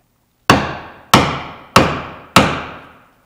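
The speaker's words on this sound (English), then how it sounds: "The more I pound, the more the head slides down the end of the handle." A hammer pounds a hatchet head down onto its wooden handle in four loud, evenly spaced blows, each a sharp crack that rings out and decays, with no talking.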